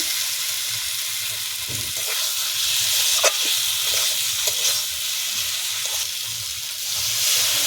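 Egg and potato curry being sautéed in a pan, a steady close sizzle and hiss with occasional stirring scrapes, continuing evenly throughout with no talking.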